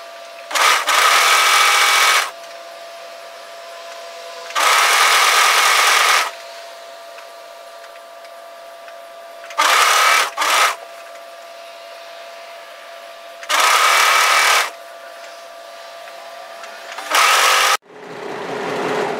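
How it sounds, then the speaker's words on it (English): An overlock serger runs in short, loud bursts while finishing sweater fabric seams, about five separate whirring runs of a second or two each with quieter pauses between. "my overlock, so as soon as I come up to it, I'm just going to serge off and then trim that back"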